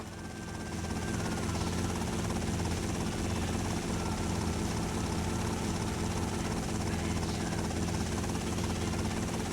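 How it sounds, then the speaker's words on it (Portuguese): Helicopter in the PS2 game GTA Vice City Stories, a steady loud rotor and engine roar running continuously at close range with a dense, even texture throughout. "Um negócio com helicóptero."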